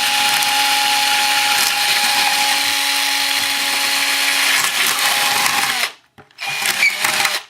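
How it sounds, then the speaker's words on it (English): A power drill with a 1/4-inch bit whines steadily for several seconds as it bores through a part, then cuts out briefly and revs again. "And then I'll go ahead and drill with this 1/4-inch drill."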